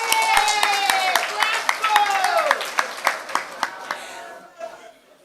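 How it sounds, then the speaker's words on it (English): Scattered clapping for the market vendors at a community market day in Mahaut, with individual sharp claps standing out over crowd noise and a speaking voice; the claps thin out near the end. "Let's give a round of applause for them."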